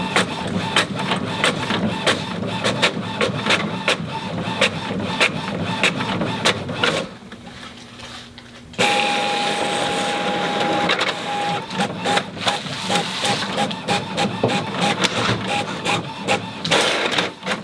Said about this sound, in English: You'll be able to see the print quality that this printer is able to produce when it's printing on photo paper